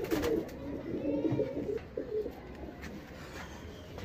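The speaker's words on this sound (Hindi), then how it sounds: "ये लॉफ्ट है जो नरों वाला सेक्शन है" Male racing pigeons coo inside the males' section of a loft, a dense run of close, throaty calls in the first half that thins to scattered coos.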